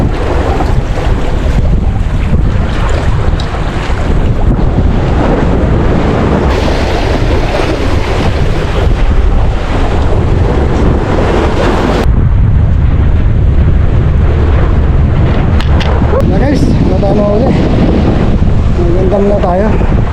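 Strong wind roars steadily across the microphone on the Manila breakwater, a loud, constant rush of buffeting noise with water churning underneath.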